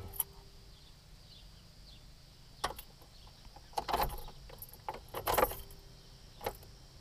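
Car keys jangle and clink in a stuck ignition of a car with a dead battery, several short metallic rattles and scrapes against a quiet, low hum.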